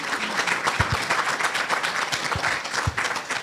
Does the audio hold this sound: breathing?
no